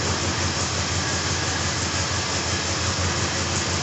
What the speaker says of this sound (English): I'll let it warm up for a little while and just see if it leaks oil anymore.